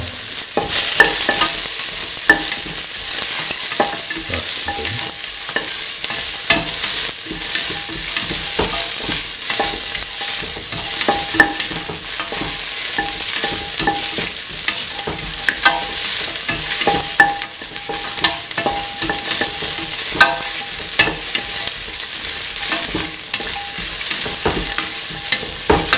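Kidney beans being sautéed in a pan with coconut milk, with a steady crackling sizzle and frequent scrapes and taps of a stirring utensil throughout, close and fairly loud with no talk.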